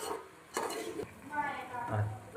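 Chopped onions just tipped into hot oil in a pan and stirred, giving soft utensil scrapes and clinks over a faint sizzle, quiet and brief.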